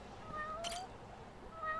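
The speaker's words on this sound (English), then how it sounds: "I hear meowing." A cat meows in the Judgment video game: a few short, fairly faint meows over soft game ambience, with no talk.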